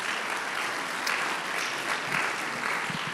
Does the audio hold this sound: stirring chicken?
no